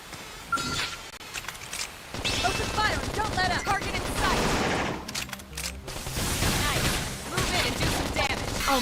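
Rapid bursts of gunfire crackle and clatter in a Xenoblade Chronicles X battle, loud and nearly continuous with brief pauses, mixed with metallic clinks and shattering hits while voices speak over the fighting.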